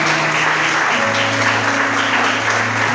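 Church congregation applauding, dense steady clapping throughout with sustained music underneath.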